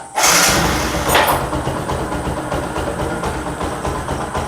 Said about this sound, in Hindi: तो अभी हम गाड़ी को स्टार्ट करेंगे।